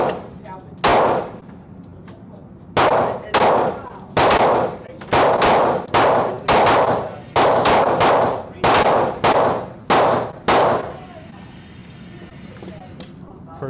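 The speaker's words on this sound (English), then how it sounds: "First couple shots out of it really wasn't too bad." Glock 23 Gen 3 pistol fired outdoors, about fifteen sharp, loud reports in irregular succession over ten seconds, each with a short decay, close to the listener, then quiet.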